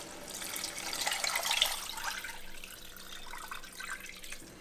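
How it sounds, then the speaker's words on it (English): Water pours into a cooking pot holding chicken for jambalaya, a continuous splashing rush that swells and then tapers off, up close and without talk. "Now the chicken is going to go in along with 6 cups of water"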